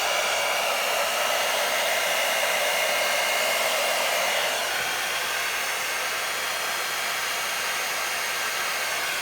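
A blow dryer runs steadily and loudly at close range over acrylic pour paint, a constant airy whir with no pauses.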